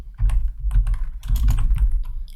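Fingers type code on a computer keyboard in quick, uneven bursts of close, crisp key clicks, with a short pause in the middle.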